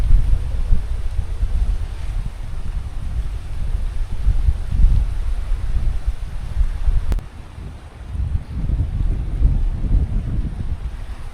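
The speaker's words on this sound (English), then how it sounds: "Still pretty windy today." Steady outdoor wind buffeting the microphone, a low rumbling roar that swells and eases in gusts, with a brief lull partway through.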